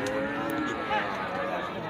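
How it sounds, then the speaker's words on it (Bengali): Cattle low at a busy livestock market in Noakhali where bulls are bought and sold, a few moos rising over steady crowd chatter and bargaining voices. "এখানে দুটি গরু দেখছেন"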